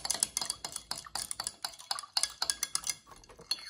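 A homemade refresher drink stirred with a tea bag in a cup, a quick run of close, bright clinks and taps as the spoon knocks against the sides.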